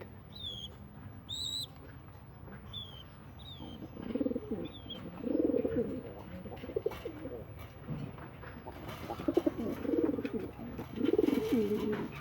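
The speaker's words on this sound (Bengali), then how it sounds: "এইগুলি হচ্ছে রেসার কবুতর" Racing pigeons cooing on a farm, low rolling coos repeating in bursts close by, with a few higher chirps early on and a soft background hum.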